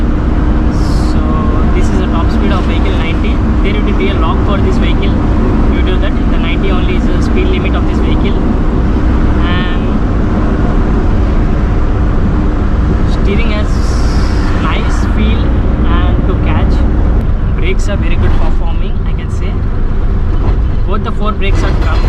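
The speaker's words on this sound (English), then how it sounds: "Now it has a lots of sounds inside because of empty vehicle it is." Inside the empty cab of an Ashok Leyland Dost LS light truck running at its 90 km/h top speed, a loud constant roar of engine, road and wind noise fills the space, with rattles and clunks breaking through.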